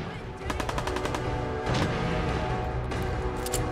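Gunfire in Fallout 4 rattles in rapid automatic bursts at moderate loudness, with a heavier crack midway and more shots near the end.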